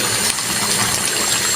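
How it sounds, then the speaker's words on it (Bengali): Broth poured into a cooking pot of eggplant and egg curry, a steady close rushing splash of liquid that runs without a break for about a second and a half, with no talk. "এখন আমি ঝোলটা দিয়ে দিব, ডাইকে দিই, ঝোলটা আনি।"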